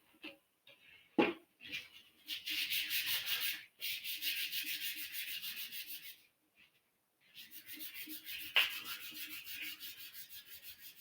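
Sandpaper rubbed back and forth over the wooden body of a banjitar during restoration, in several long runs of steady rhythmic rasping strokes separated by short pauses and a few knocks, close and without speech.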